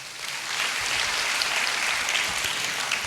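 Even, continuous applause from a seminar audience in Bhuj, heard as a dense wash of clapping at moderate loudness with no speech over it.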